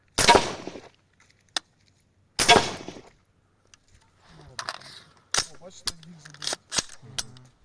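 Two loud, sharp shots from an AR-15 rifle firing 5.56x45 tracer rounds ring out a couple of seconds apart, followed by a few mechanical clicks and brief talking.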